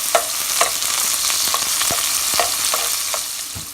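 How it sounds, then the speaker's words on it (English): Onions frying in oil in a pan for a curry give a steady close sizzle, with a utensil stirring and scraping at a rough irregular rhythm. No voices are heard. "drop your onions,"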